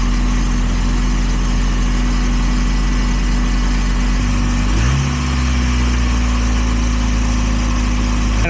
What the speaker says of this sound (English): So we're gonna start the car and see if maybe that helps.